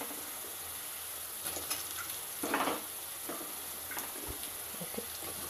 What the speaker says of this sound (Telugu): ఇప్పుడు మన ఆనియన్స్ కొంచెం ఫ్రై అయ్యాయి. సో మనం ఏంటి ఇక్కడ క్యాప్సికమ్ యాడ్ చేసుకుందాం.